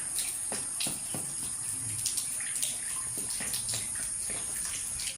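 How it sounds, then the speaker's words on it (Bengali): Steady rushing water pours continuously into a swimming pool, a broad hissing flow with scattered splashes, fairly close and unbroken throughout. "কীভাবে পানি ভরতেছে।"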